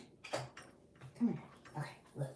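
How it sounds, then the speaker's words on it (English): A dog whimpers and whines in short, soft bursts indoors while a person talks to it nearby. "Sorry, that's my dog."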